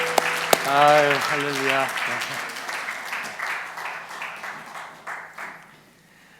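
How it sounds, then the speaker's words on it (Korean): A church congregation applauding at a Sunday service, sustained clapping that fades gradually over several seconds while someone speaks briefly over it at the start. "다시 한번 큰 박수로 축하해 주시기 바랍니다"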